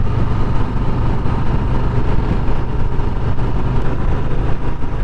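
A 2020 Harley-Davidson Softail Street Bob with a Milwaukee engine runs steadily and smoothly, a continuous low even drone with little rumble, close by and without voices.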